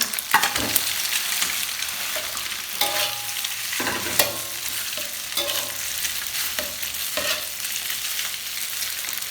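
Rice being stir-fried in a hot pan with scrambled egg for sausage fried rice sizzles steadily, broken by repeated scraping clanks of a spatula stirring and tossing, close up and without talk.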